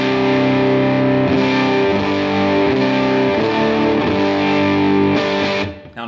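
Electric guitar through a Jackson Audio Broken Arrow V2 overdrive on its full boost setting gives a thick, saturated, sustained chordal sound, loud and dense, with a few chord changes before it cuts off.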